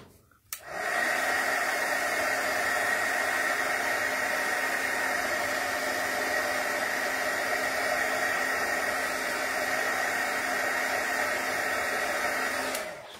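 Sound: heat tool drying craft glue on a project

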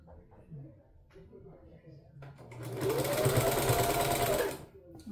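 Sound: sewing machine stitching the edge of a skirt

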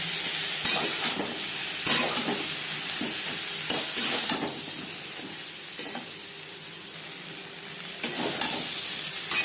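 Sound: pointed gourd (potol) and potatoes frying in a pan

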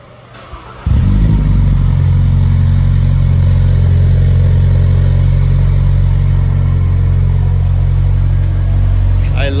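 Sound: Toyota GR86 10th Anniversary Special Edition engine starting and running

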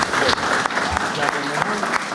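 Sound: applause for the new regional governor

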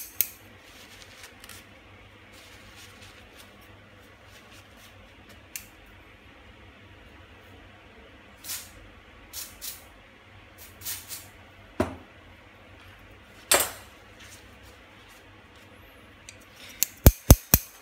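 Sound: stiff unoiled shears snipping

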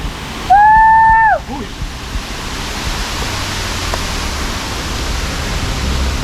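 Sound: waterfall inside a cave in Ubud, Bali

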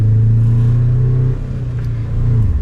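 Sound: car engine revving, struggling in first gear

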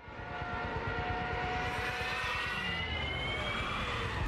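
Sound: Junkers 87 Stuka dive bomber siren

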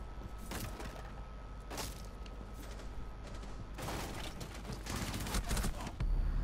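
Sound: gunfire in the video game Rainbow Six Siege

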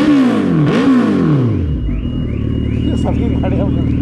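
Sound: motorcycle engine revving

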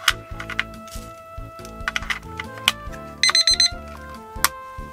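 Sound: Seiko alarm clock ringing

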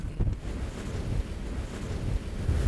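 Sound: strong wind at height

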